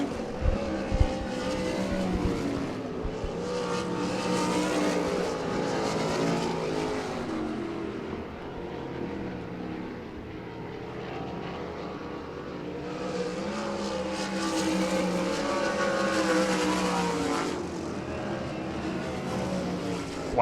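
Race cars lapping a dirt oval at Devil's Bowl Speedway during a heat race of the Spring Nationals, engines droning loud and continuous as the pack passes, swelling and fading with the laps.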